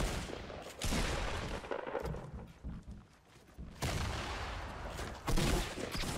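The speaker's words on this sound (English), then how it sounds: "Shotgun! Oh my god!" Fortnite gameplay with dense bursts of gunfire, including shotgun blasts, rattling loudly in rapid succession, easing off briefly midway before a heavy renewed burst and a final louder blast.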